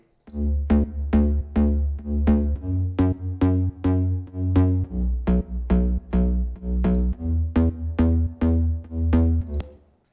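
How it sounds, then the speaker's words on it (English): A deep, punchy tropical house synth bass in FL Studio plays a repeating groovy pattern of short plucked notes, steady rhythm, alone and up front. "Okay, so for the bass line, I have this going on."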